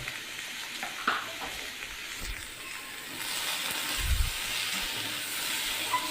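Spices (turmeric, cumin and chili powder) frying in a pan for a singhi fish curry, a steady broad sizzle with a few soft spatula scrapes and a brief louder stir near the end, no talk.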